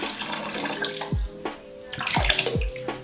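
Apple cider vinegar poured into a container of water for a hair rinse, making a continuous splashing, trickling pour with a few sharp low gurgling plops, close and moderately loud with no talking.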